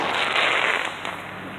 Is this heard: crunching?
no